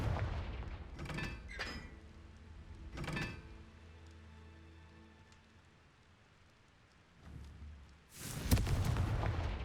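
Confringo fire spell in Hogwarts Legacy, sharp bursts of blast followed by crackling debris, with one loud explosive hit near the end and quieter ambient rumble between.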